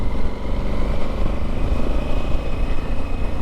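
A Honda Africa Twin adventure motorcycle being ridden, with a steady, close engine drone mixed with rushing wind, unbroken throughout.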